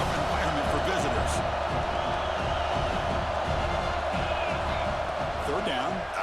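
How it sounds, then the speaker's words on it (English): A dense, steady roar of a stadium crowd at an American football game, distant and continuous with a broadband wash of many voices and faint cheers throughout. "Listen to the crowd energy here in the early going."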